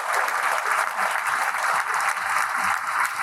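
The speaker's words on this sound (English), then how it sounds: "So let's give him another round of applause." Sustained applause from an audience at an annual meeting, honoring a senator, steady and dense throughout without a break.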